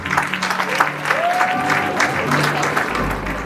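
A crowd at a secondary school graduation ceremony claps loudly and continuously as graduates file out of the hall. The dense applause has muffled voices and a low rumble beneath it.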